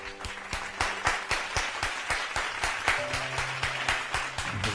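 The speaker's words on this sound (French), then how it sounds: "sous vos applaudissements." Rhythmic clapping from a church congregation continues steadily, with regular beats standing out against a busy background.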